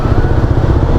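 A Yamaha Aerox scooter engine idles steadily up close with an idle stop feature, giving a continuous low, even mechanical hum with a light clatter and no pauses.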